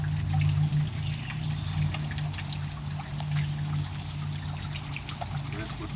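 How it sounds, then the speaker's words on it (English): Water trickles and gurgles steadily through a hose as it is primed to siphon water out of a muddy hole, close by and continuous, with a low hum underneath. "This would be called priming the hose."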